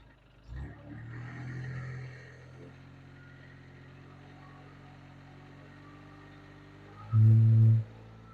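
A Komplet concrete crusher engine hums steadily at idle, then revs up with a sudden loud surge of higher RPMs near the end.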